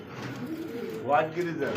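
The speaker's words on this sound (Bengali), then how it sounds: "আরও একটা হোয়াইটের মধ্যে কিন্তু গ্রিজেল কবুতর দেখেন" White grizzle pigeons at a farm coo steadily in a low, rolling murmur close up, with faint talk behind them.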